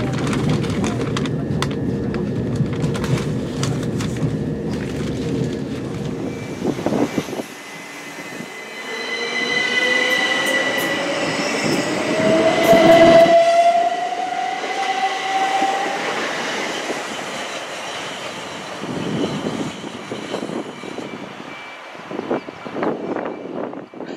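A Southern train runs toward South Bermondsey in London with steady rumbling wheels, a rising squeal from the rails midway, then quieter rolling and clatter.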